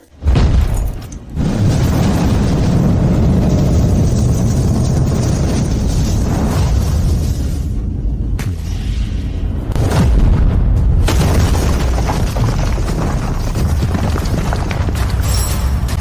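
A black hole bomb detonates in an animated apocalypse story, a loud, sustained, roaring explosion rumble that swells after a short opening blast and keeps booming for many seconds with no talk.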